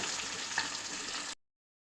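Fish fries in a covered pan over a low flame, giving a soft, even sizzle and hiss that holds steady for just over a second before cutting off into silence.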